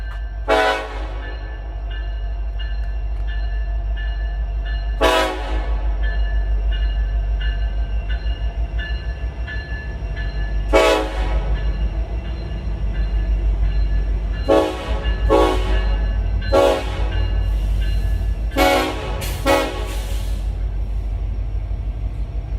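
A train rumbles steadily past nearby while its horn sounds loudly again and again in long and short blasts, some spaced seconds apart and others in quick clusters over the continuous low rolling roar.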